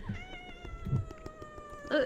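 A pet cat meows close by, faint harmonic calls with a louder, sharper meow near the end, no talking over it.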